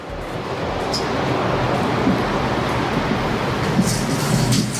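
A steady rumbling drone fills the inside of a moving train carriage in the United States, low and continuous, with faint rattles and a few light clicks.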